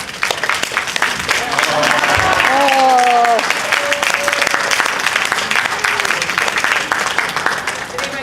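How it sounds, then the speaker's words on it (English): Audience clapping at a political talk for a local GOP women's event, a broad steady wash of applause filling the room, with a voice briefly rising over it partway through. "No, you were too busy clapping."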